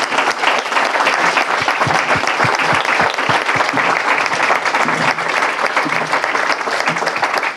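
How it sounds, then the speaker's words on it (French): A large audience at a lecture on biodiversity and the microbiome gives loud, sustained applause, a dense close clatter of clapping holding steady for several seconds. "Et je voudrais qu'on les applaudisse"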